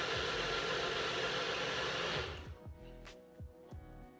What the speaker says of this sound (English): Literally all you have to do is place it down onto the base and twist, and your smoothie is going to start blending.